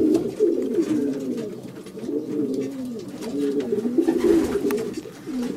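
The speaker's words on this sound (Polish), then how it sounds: "Do tej pory przyleciało 22 gołębie." Racing pigeons coo at the loft after returning from a race, a steady run of soft, rolling low calls repeating close by, with no voices over them.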